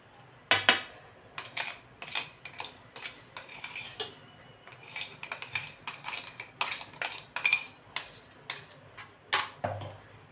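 Coarse-ground masala is scraped and tapped onto a metal plate, giving a run of sharp, irregular clinks and scrapes, some loud and close, spread over about ten seconds.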